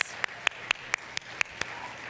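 A few people clap at the Women of Influence Nanaimo awards gala, sparse sharp claps in an uneven rhythm, close and moderately loud rather than a full crowd roar.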